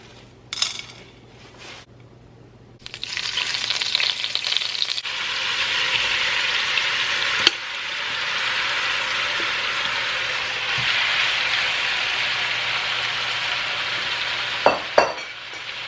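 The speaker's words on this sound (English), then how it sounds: "we're gonna go ahead and sear it." Seasoned stew beef sears in a preheated pot, a steady broadband sizzle that swells after a few seconds and holds loud and close, with a couple of sharp clinks near the end; no talking.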